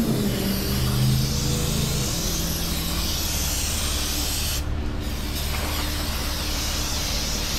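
Steady, close hiss of spray paint coating a brake drum and spring on a Toyota Sienna 3.5 minivan, running continuously with two brief dips partway through.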